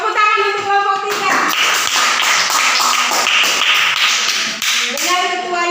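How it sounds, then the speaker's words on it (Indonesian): Classroom applause for a student group in a sixth-grade primary school class, steady clapping running throughout while children's voices and singing-like tones ring over it. "Tepuk tangan untuk kelompok 3."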